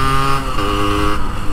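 A Yamaha RXZ 100cc two-stroke motorcycle with a six-speed gearbox runs loud and close, its engine holding a steady buzzing drone with slight wavering in pitch and no voices.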